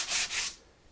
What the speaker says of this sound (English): knock a little bit of that coarseness off of there before we start sanding